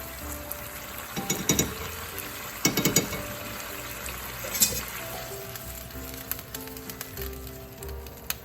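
Salt and pepper ground from a mill onto a sizzling prawn dish, a few short gritty ratcheting bursts over a steady close frying hiss.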